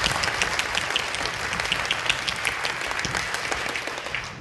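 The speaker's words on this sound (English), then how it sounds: "So I'm going to ask you to clap as fast as you can" Dense, rapid clapping fills the room as an audience claps as fast as it can, a loud continuous roar of hands with no talk over it.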